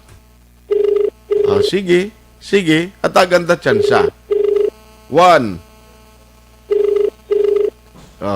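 A cellphone call rings out on a call-in radio hotline, with short repeated ringback tone bursts arriving in pairs and singles while people talk over and between them.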